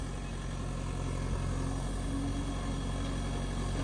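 An old New Holland tractor engine runs steadily while working, a loud, continuous, dense drone with a constant low rumble and no breaks or voices.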